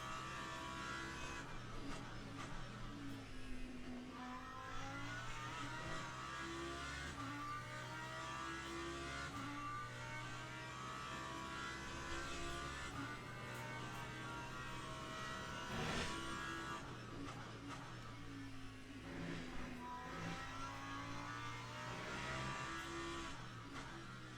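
Lamborghini GT3 race car engine lapping Sebring in a racing video game, repeatedly revving up and dropping through gear changes, steady and fairly close with no talk.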